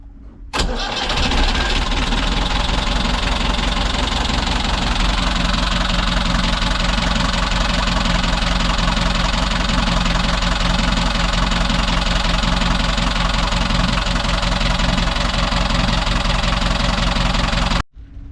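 A repaired boat diesel engine cranks and catches, then idles loudly and steadily at close range with a deep, even rumble until it cuts off at the end.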